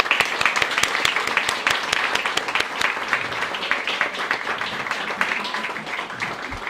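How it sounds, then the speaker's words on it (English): An audience at an EMS awards dinner claps steadily for several seconds, a dense, even patter of many hands that fills the room without a pause. "big round of applause for you guys"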